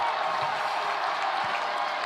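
A sellout stadium crowd at the Hawaii Bowl college football game roars with a dense, steady wash of cheering and applause.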